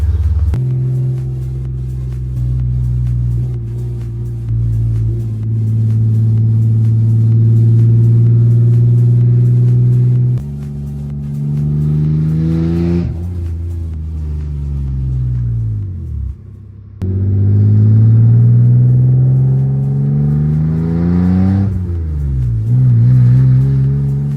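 A car engine rumbles and revs through several rising and falling acceleration sweeps as it drives around the block on a touring first drive, loud and close, with a brief lull between pulls.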